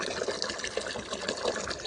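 Water gushes steadily into a container to fill it for cows and buffaloes to drink, a close, continuous pouring rush with no talking.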